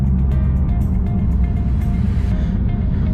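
A car with a COBB tune accelerating and shifting through its gears, heard as a loud, close engine drone with a deep low rumble that changes tone near the end.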